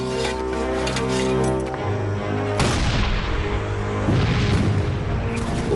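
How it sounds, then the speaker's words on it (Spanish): Civil War cannon at Gettysburg firing explosive shells, heard as heavy booming blasts with a big one near the midpoint and another later, each rolling into a long loud rumble over a dense battle din. "Este cañón dispara proyectiles que explotan al impactar y obuses con metralla que revientan en el aire sobre la cabeza de los enemigos."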